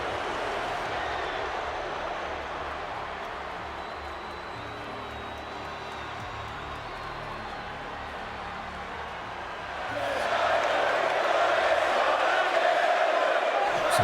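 Capacity wrestling arena crowd in WWE 2K24 cheering for Bray Wyatt, a steady distant roar that swells noticeably louder and brighter toward the end.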